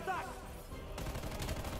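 Bursts of suppressing gunfire in Call of Duty: Black Ops Cold War erupt after a quieter stretch with a brief voice, a dense rattling volley that fills the second half at close range.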